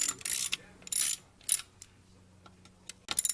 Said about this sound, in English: Now you just want to reinstall the headlight ring around the Night Guard LED light.